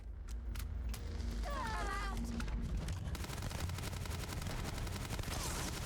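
A Grendel gun fires in the video game Starfield, with rapid automatic shots rattling in a fast, dense burst. A voice talks briefly near the start.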